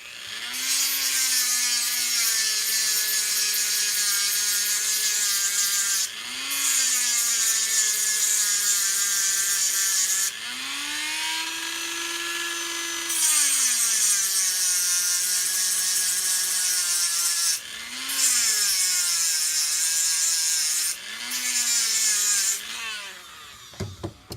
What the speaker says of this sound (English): So we're going to take our Dremel real quick and knock this down so this is flat